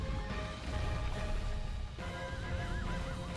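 A horse neighs and whinnies in Shadow of the Colossus, a loud wavering cry rising out of a steady game soundscape with hoof clip-clops, no talking.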